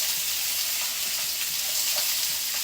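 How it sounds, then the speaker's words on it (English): Chopped vegetables for caponata sauté in a pan, producing a constant, fairly loud hissing sizzle with faint crackles and no talk. "just gonna let that saute"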